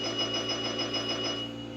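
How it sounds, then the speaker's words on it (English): A repeating electronic bell chime from the railroad game Railroad Tycoon II rings steadily and loudly through the whole moment, a bright sustained ringing tone with no pauses. "if I could lower that bell sound, I would"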